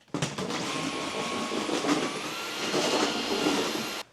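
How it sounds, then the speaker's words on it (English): Vacuum cleaner running over a floor, a loud steady whirring roar that starts abruptly, holds for about four seconds with slight shifts in pitch, then cuts off, with no talk over it. "I had to vacuum the floor"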